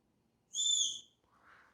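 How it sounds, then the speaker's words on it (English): A Satellai GPS wireless dog fence collar sounds its whistle tone: a bright, clean two-pitch electronic whistle about half a second long, then a softer, lower chirp after a short gap, alone in near silence. "A whistle."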